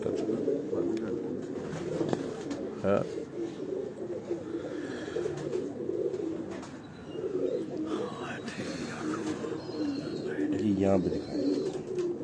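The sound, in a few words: pigeons cooing on a Lahore rooftop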